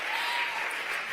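Applause from a student audience at a college awards ceremony: steady dense clapping from many hands, moderately loud and even throughout, with no voices over it.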